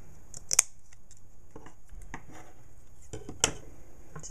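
Scissors snipping pipe cleaners, two sharp metallic snips standing out among softer clicks and rustles, close up.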